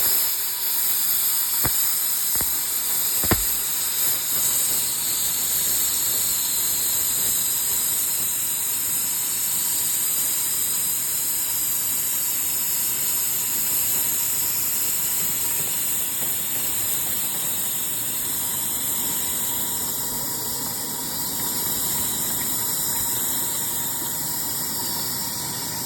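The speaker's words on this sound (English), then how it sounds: "Cylinders are blowing clean steam now." A 1973 SVLS steam engine's open cylinder cocks blow clean steam in a loud, steady hiss that runs unbroken throughout, with a few sharp clicks near the start and no talking.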